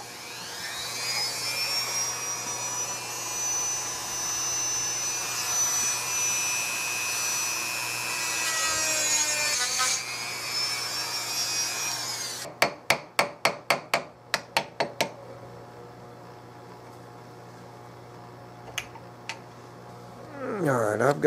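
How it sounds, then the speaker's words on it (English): A Dremel rotary tool carves into a Turkish walnut gun stock for a Carl Stiegele 16 gauge, a high steady whine for about ten seconds, followed by a quick series of sharp taps and scattered knocks. "Chew it out with a Dremel."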